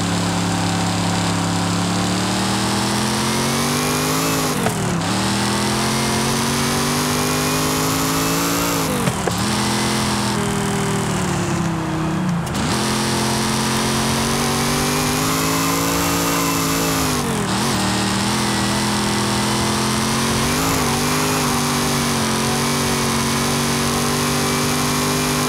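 Engine of a 1968 Pontiac Firebird racing in Forza Horizon 5, a loud continuous roar that climbs in pitch through the gears, dropping briefly at each of several shift points.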